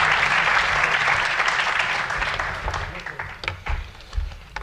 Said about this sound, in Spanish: os pido por favor un fuerte aplauso para todos ellos